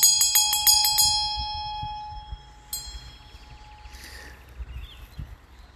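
Tibetan bells strike in a quick run of about six bright, ringing chimes, then one more chime later, each leaving a long shimmering decay over a soft outdoor background.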